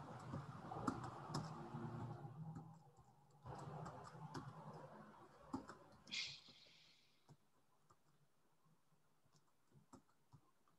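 Soft, irregular computer keyboard typing with quick clicking keystrokes, fairly close, over a quiet room with faint background murmur.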